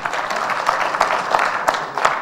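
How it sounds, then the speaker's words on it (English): Seminar audience clapping together in a room, a dense, fairly loud burst of applause with brief rhythmic peaks, lasting a couple of seconds. "I want you to clap."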